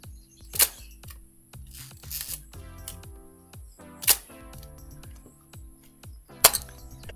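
A camera shutter fires repeatedly, set to different shutter speeds: sharp separate clicks spaced a second or more apart, some as quick single snaps and others as longer two-part actions, close and clear with no talk.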